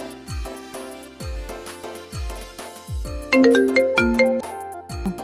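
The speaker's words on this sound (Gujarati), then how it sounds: "ચાલ મોઈકાને ફોન કરવા દે." A phone ringtone chimes in a melodic pattern of repeated notes for about five seconds, louder and brighter in its second half, with a low thump marking each phrase and no voices.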